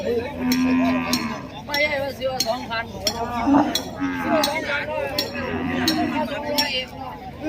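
Water buffalo low and moo repeatedly, loud and close, at a busy cattle and buffalo market in Roi Et, Thailand, while people talk nearby and faint clinks sound in the background.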